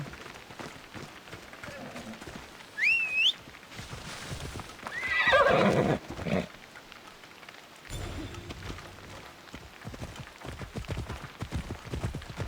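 A horse in Assassin's Creed Odyssey whinnies sharply and gallops with rhythmic hoofbeats, over ongoing game ambience and rain-like noise, with a second brief neigh midway and footfalls continuing to the end.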